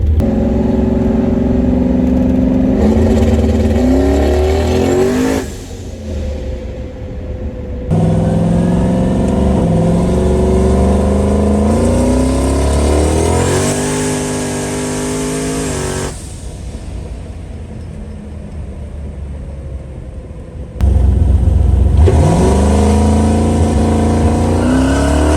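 Car engine revving hard during a burnout, loud and continuous with rising and falling throttle sweeps, several brief dips between pulls, alone with no voices.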